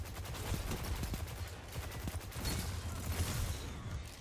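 Rapid gunfire in a shooter video game, a steady stream of sharp shots rattling close and fairly loud throughout, with no talking.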